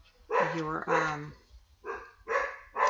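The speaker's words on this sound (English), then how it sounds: "sorry, my dogs are barking." Dogs bark indoors in a few sharp, fairly close bursts, two quick barks followed after a pause by further yips, with no other sound in between.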